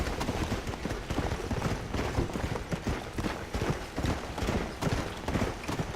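Horse galloping over rocky ground in the Red Dead Redemption: Undead Nightmare video game: loud, continuous rapid hoofbeats pounding in a steady driving rhythm for the whole stretch, with no talking.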